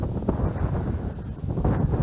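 Steady outdoor wind buffeting the microphone while fishing, a constant low rumble with gusty swells throughout, no voices.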